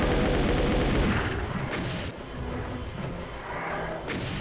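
Rocket launcher fire and explosions in Doom II, a dense, loud barrage of booming blasts and crashing impacts that fades slightly into a rumbling din of repeated shots.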